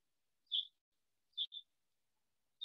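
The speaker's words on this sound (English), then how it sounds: "I heard birds chirping." Three short, high bird chirps ring out over silence, one early, a quick double call near the middle and another at the end, fairly faint and with no other sound.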